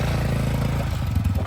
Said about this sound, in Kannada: ಅವ್ಳು ಬೈಕ್ ಓಡಿಸ್ತಾಳೆ ಬಿಡೋಣ